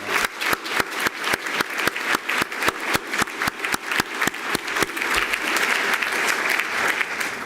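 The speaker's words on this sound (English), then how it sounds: "we should give a small round of applause to Robert Mundheim" An audience at a university recognition ceremony breaks into a round of applause for a trustee, with dense, steady clapping that starts sharply and fills the whole stretch at a strong, close level.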